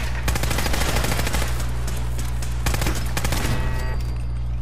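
Turret gunfire in Fallout 4's Nuka World rattles out as rapid, continuous machine-gun bursts over a low droning hum, loud and close, with brief gaps between volleys.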